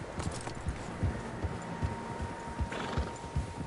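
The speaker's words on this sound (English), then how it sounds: "Horses, quite a few of them." Horses gallop in Red Dead Redemption 2, their hooves striking in a quick, steady clip-clop rhythm that carries on throughout, moderately loud over a low ambient hum.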